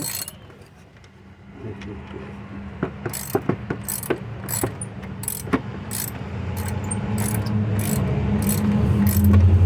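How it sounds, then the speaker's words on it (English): A ratchet clicks in short bursts while the alternator pulley is torqued down on a 2006 GMC Yukon, the quick metallic ticks close by, then giving way to a rising low rumble. "So what we're doing is we're taking this pulley, and it has to be torqued down"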